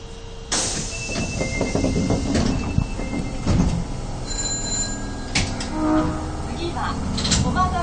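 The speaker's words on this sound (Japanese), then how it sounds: "扉が閉まります。 ご注意ください。" Train doors close at a Japanese subway station before the stop for Komagawa Nakano, with rumbling train noise, a chime and the thump of doors sliding shut, under a recorded voice announcing departure.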